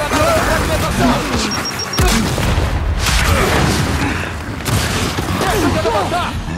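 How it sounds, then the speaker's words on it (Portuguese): A frag grenade blasts in the Gears 5 video game during a loud firefight, with booming bursts and gunfire stacked throughout and players shouting over the chaos. "Lançando granada de fragmentação!"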